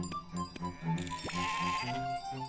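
A sheep bleats repeatedly in the video game Gomo, loud and close, with a light jingle and soft game sounds around it.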